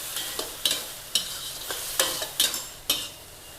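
Pork stir-fried with sauce over high heat, a quiet sizzle punctuated by about seven sharp, evenly spaced scrapes of a spatula against the pan.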